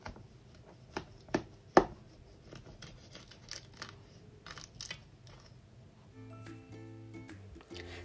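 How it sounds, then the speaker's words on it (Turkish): Several sharp crunchy cuts through crispy baked börek, a few distinct crackling slices close by, then a steadier scraping with faint background hum. "Şimdi hemen bu güzel böreği dilimleyeceğim ve size çıtırtısını dinletmek istiyorum."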